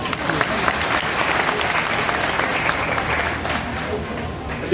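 A crowd at a political gathering applauds the officials of a construction workers' union, giving dense, sustained clapping that stays loud and even throughout.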